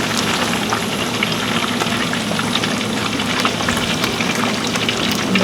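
A batch of stingray fish pieces deep frying in hot oil gives a loud, steady sizzle with constant crackling pops, close and unbroken throughout.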